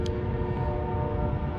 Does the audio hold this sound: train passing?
yes